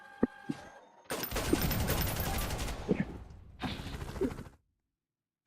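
Gunfire in the Roblox game Noobs in Combat, heard as a dense, loud volley lasting a couple of seconds, then a shorter second burst after a brief dip, and finally silence.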